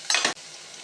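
Potatoes frying in oil, a brief burst of bright sizzle and scraping lasting a fraction of a second, then settling into a low steady hiss of hot oil.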